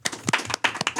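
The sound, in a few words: applause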